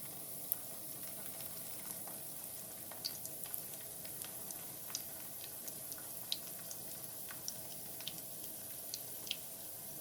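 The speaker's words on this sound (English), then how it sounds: "we're going to go right ahead and put it in that grease. And it fries up within just a couple of minutes on each side." Fry bread dough cooks in hot grease over medium heat, giving a quiet, steady sizzle dotted with small crackles and pops throughout.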